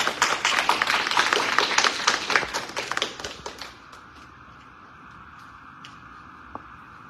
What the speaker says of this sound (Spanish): Recibámoslo con un fuerte aplauso, por favor.